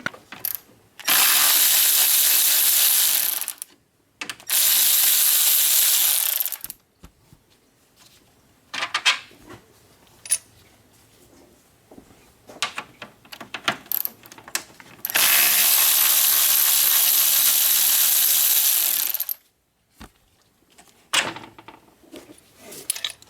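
A ratchet loosens the bolt holding a car's condenser to the radiator, with two long bursts of loud, rapid clicking separated by quieter metallic handling and clinks.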